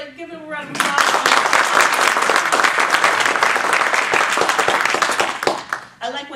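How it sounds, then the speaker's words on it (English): A room full of audience members applauds loudly and steadily for several seconds, a dense wash of clapping that cuts off near the end, with a brief voice just before it starts. "Give him a round of applause."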